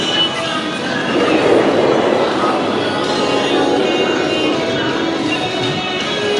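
A steady rushing rumble of a roller coaster train passing at Adventureland, the Monster coaster, loud and sustained for several seconds, with no talk.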